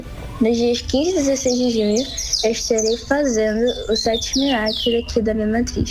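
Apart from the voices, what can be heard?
small bird singing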